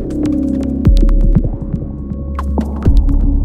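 An Elektron Digitakt drum machine plays a dry, unprocessed pattern: deep thumping kicks, sharp ticking hits and a steady low tonal hum, loud and close with no voices.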